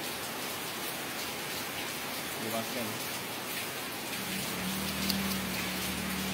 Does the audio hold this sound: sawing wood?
no